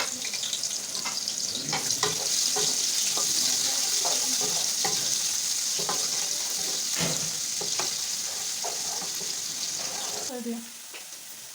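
Chopped onions go into hot oil already holding whole spices such as green cardamom, cumin, cloves, black peppercorns, bay leaf and cinnamon, giving a steady loud sizzle with scattered pops and stirring clatter that dies back near the end.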